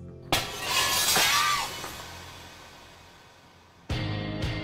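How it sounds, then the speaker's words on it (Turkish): Glass shatters suddenly with a loud crash, then shards tinkle and fade, followed by a couple of sharp knocks near the end. "Hazırladığımız gibi camı kıralım bakalım."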